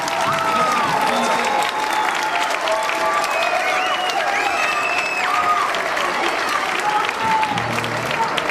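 A concert crowd in a high school auditorium gives sustained applause and some cheering for a singer and his band, loud and continuous with scattered whoops and a bit of indistinct voice mixed in.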